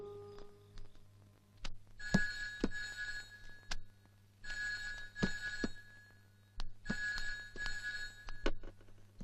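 An old telephone rings at a rural post office counter in a Malayalam film scene, three separate bursts of bright bell ringing with short pauses between them, fairly close, with a steady low hum underneath and no talking.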